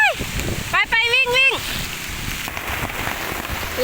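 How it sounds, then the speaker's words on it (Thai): Steady rain pours down in a continuous broadband hiss, with a voice calling out briefly near the start as people run for shelter. "ฝนตกแล้วฮะ"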